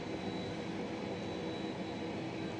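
A Qantas Airbus A330-200 airliner with GE engines produces a steady, broad engine roar with a faint high whine on top, constant and fairly loud throughout, with no one talking.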